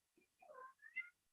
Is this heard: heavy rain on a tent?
no